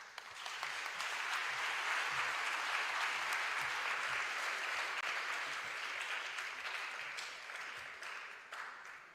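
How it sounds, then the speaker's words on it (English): An awards ceremony audience applauds, a dense, loud wash of clapping that holds steady for several seconds before gradually thinning toward the end. "Can we once more give Inga a big round of applause?"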